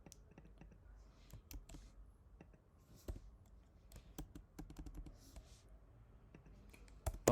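Quiet keystrokes on a computer keyboard tap out Java code in irregular bursts of crisp clicks, close and faint, with a louder clatter at the very end.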